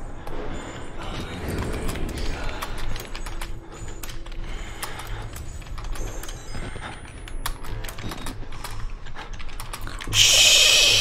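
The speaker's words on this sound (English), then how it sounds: "You and your typing" Computer keyboard typing in clustered bursts of clicks, close and steady over a low background rumble, with a louder burst of noise near the end; no talking.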